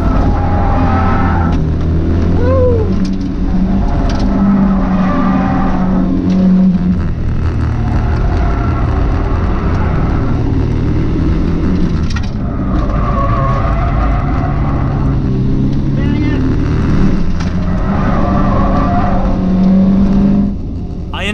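A Mazda Miata race car screams through a fast lap at Cayuga, its engine loud and close throughout, revving up and down steadily with brief dips between gear changes and corners.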